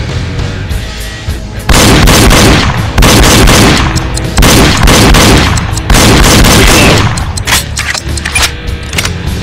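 Gunfire in the Wii shooting game Reload, heavy booming shots arriving in loud repeated bursts separated by short quieter gaps, punchy and close.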